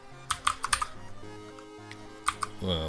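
Computer keyboard keys clacking in quick close bursts of several strokes with brief pauses between, over faint background music.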